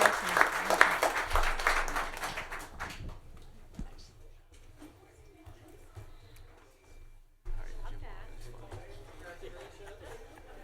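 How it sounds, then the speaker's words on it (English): Loud applause from a crowd at a city council meeting for about three seconds, then fading into quieter room noise with scattered murmurs and a brief renewed burst. "if we could give them a little round of applause, that'd be great"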